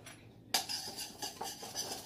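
A spoon stirring garlic powder, sage, pepper and salt together in a bowl, giving light clinking scrapes in a few short strokes after a quiet start.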